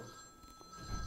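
A telephone rings faintly in a quiet room, a steady electronic tone holding through the whole moment with a low rumble underneath.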